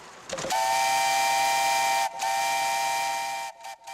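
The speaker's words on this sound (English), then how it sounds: "listen to the chuff of the steam engine" The steam engine powering an authentic 1900s Ferris wheel gives a loud, sustained whistle-like tone. It breaks off briefly once midway and fades out in short stutters at the end, with no one talking.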